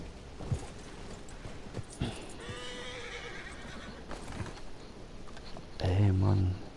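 A horse in the open-world western game Red Dead Redemption 2 gives a loud whinny with hoof clip-clops around it, and someone talks faintly in the background.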